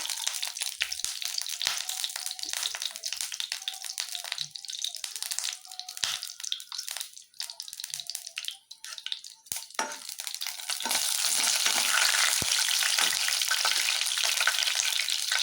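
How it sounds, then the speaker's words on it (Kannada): Whole spices for Hyderabadi dum biryani crackle and spit in hot oil, a loud dense sizzle with frequent stirring clicks, swelling into a steadier hiss in the last few seconds. "ಎಣ್ಣೆ ಹಾಕೊಂಡ್ಮೇಲೆ ಈ ಸ್ಪೈಸಸ್ ಇದೆಯಲ್ಲ ಈ ಸ್ಪೈಸಸ್ ಎಲ್ಲ ಹಾಕೋತೀನಿ ನಾನು"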